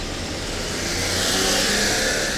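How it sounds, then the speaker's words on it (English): Cars drive through a narrow small street in Japan, a steady engine rumble and tyre roar swelling slightly as one passes nearby. "it's the smallest street that you would think they would be the most quiet, but like tons of cars"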